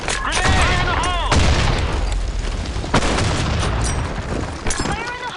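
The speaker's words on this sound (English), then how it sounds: "Grenade! Grenade! Fire in the hole!" Loud, dense battle noise from a Sand Storm II match in a first-person shooter game, with booming grenade blasts and gunfire crowding together, and shouted voices over the din.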